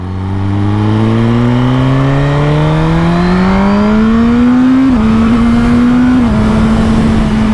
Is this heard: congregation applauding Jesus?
no